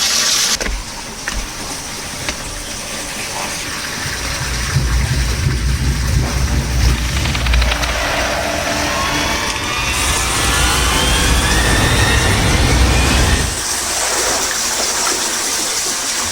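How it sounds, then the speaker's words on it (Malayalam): Water pours from a small cave at Madakkulam Cave in Kannur, making a loud, steady rushing wash that swells partway through and then eases. No voices are heard. "അങ്ങോട്ട് അവിടെ നിന്ന് വെള്ളം വീഴുന്നു"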